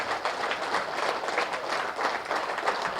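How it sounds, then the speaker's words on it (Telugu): An audience at the PDMY 2024 meditation gathering claps loudly and steadily after a meditation session, a dense continuous wash of many hands from a large crowd with no voices standing out. "ఒకసారి ధ్యానానికి గట్టిగా చప్పట్లు కొడదాం"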